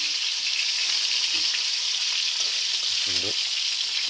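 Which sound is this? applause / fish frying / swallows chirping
fish frying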